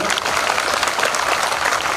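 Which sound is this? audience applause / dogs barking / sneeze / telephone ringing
audience applause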